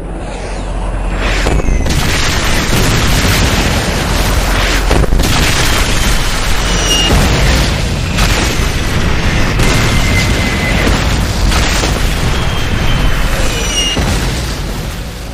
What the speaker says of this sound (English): the lieutenant hurriedly called in an artillery barrage